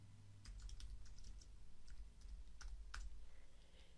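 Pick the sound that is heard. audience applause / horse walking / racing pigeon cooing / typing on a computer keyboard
typing on a computer keyboard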